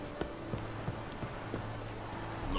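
Horse hooves clip-clop at a steady, even trot in The Witcher 3: Wild Hunt, quiet, evenly spaced footfalls over a faint background with no talking.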